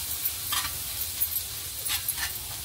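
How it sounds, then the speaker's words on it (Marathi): Finely chopped onion sautéing in butter on a hot tawa, with a continuous close sizzle broken by a few short, sharp scraping stir strokes. "आता तवा गरम घेतलाय मी, आता त्याच्यामध्ये मी बटर टाकते। तर याच्यात घालायचा आपण एक मोठा कांदा, बारीक चिरलेला कांदा घालायचा आहे।"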